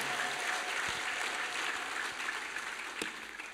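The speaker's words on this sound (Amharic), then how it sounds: "ጭብጨባ" Applause from a church congregation after a sermon, steady and fairly distant, with a few sharper claps standing out near the end.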